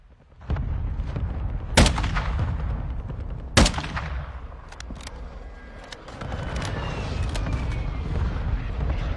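Fortnite gunfire rings out during a match as two sharp, loud shots crack over a rumbling game background, followed by scattered lighter pops and a continuous engine-like drone.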